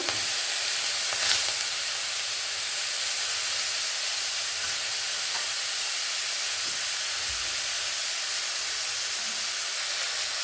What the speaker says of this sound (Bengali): তো মাছ এখন ভাজা হবে, তার জন্য মাছটা দিয়ে দিল।